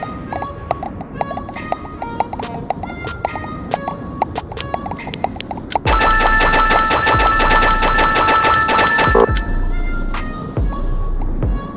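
Ultra Tank weapon in a video game firing in a rapid stream of sharp shots, sparse at first and then a dense, loud, continuous burst over a low rumble.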